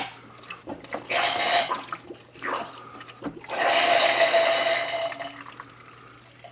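Water rushing and gurgling into a Vevor aquarium canister filter during assembly, in two surges with splashy, bubbling texture, the second longer and steadier, close up with no talking.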